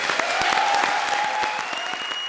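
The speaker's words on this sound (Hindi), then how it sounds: "कृष्णा के लिए जोरदार तालियां भाई।" Studio audience applause at a Hindi comedy show stage act, dense steady clapping filling the whole stretch at an even, fairly loud level with no talk over it.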